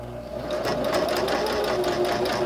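A sewing machine stitches along the fabric edge of a grocery bag holder with a close, steady, rapid mechanical hum and rhythmic needle clatter, with no talking.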